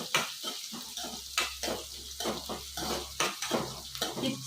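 Onions fry in a pan for hirekayi khaar kolambu, with a low sizzle under repeated clattering spatula stirs and scrapes against the metal, irregular and close.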